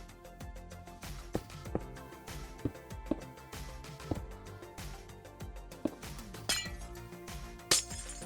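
Glass panes being placed block by block in Minecraft during a modern house build: a series of short, crisp glassy clinks spaced irregularly over a soft background, with a brighter, sharper clink near the end.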